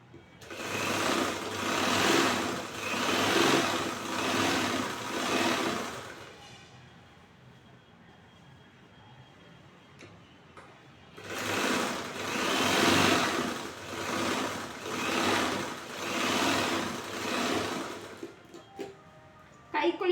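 A sewing machine stitches a blouse dart, running in two long steady bursts of whirring with a quiet pause between them, ending with a faint click.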